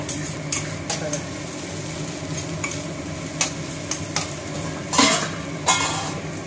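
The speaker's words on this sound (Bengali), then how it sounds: "দেখো মাঝখানে ডিমটা দিব, পুরো ভেজে দিলাম" Egg fries in a pan with boiled noodles, a steady low sizzle running throughout while a spatula taps and scrapes the pan several times in close, irregular clinks.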